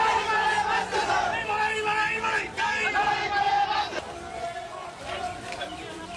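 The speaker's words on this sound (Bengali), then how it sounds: "প্লাকার্ড হাতে চোর চোর স্লোগান দিচ্ছেন" A crowd of local protesters holding placards outside a Trinamool leader's house in Diamond Harbour shouts a rhythmic slogan, loud and close, with voices rising and falling in repeated bursts.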